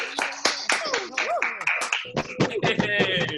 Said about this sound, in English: Give a big round of applause right now for Annie, everybody.